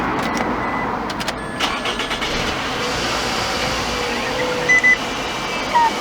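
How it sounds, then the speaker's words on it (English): A Toyota Alphard engine turns over and runs with a steady, close broadband rumble for several seconds, with a few faint higher-pitched squeaks on top. "I'm going to turn on the engine."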